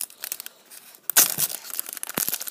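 Foil wrapping of a UEFA Euro 2016 football card pack being torn open by hand, a sharp crinkly rip followed by rustling and crumpling, close and fairly loud.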